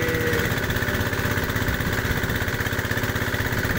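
A diesel-driven well drilling rig boring a water well through rock runs in a steady, loud, close engine drone with a rapid even throb, heard alone without talk.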